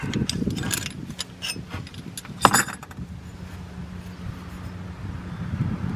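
A metal exhaust clamp being worked off a flange on a 2003 Subaru Outback, with light metallic jingling and clinking over steady low background noise and one sharper clank partway through.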